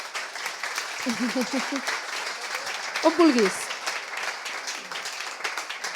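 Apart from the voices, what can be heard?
audience applause welcoming an artist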